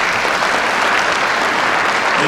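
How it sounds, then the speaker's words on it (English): An audience applauds at a Border Patrol Class 1184 graduation ceremony, a dense, steady, loud round of clapping that carries evenly without pause. "please give these special guests of 1184 a round of applause"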